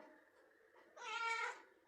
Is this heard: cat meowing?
yes